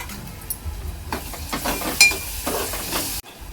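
Crushed ginger, garlic and green chili stirred into chicken in a hot oiled pan: a steady sizzle and frying hiss, with scraping stir strokes and an occasional light clink of the spoon against the pan, close and fairly loud.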